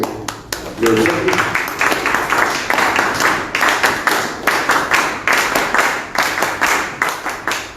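Audience at a public forum on the Chancay port clapping in a steady rhythmic burst after a short pause, close and loud, sustained through to the end.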